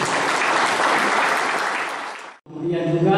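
Members at a village cooperative's annual meeting applaud their leader Pak Kasdi with a burst of loud, dense clapping that fades out, followed by someone speaking.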